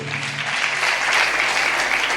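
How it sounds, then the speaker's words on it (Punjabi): Loud, sustained applause from a congregation during a religious sermon, a dense wash of many hands clapping together without a break. "ਤਾਲੀ ਮਾਰੀਏ ਜ਼ੋਰ ਦੇ ਨਾਲ"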